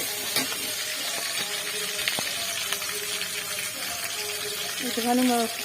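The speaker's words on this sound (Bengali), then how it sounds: "ফোড়নটা একটুখানি ভাজা ভাজা হয়ে যাক" Whole cumin seeds fry in hot oil as a spice tempering, giving a steady, soft sizzling hiss with faint crackles. A voice talks over the sizzle.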